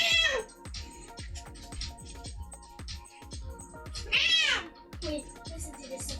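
A pet cat walking on a computer keyboard gives several faint, raspy little meows among scattered key clicks. A person talks nearby.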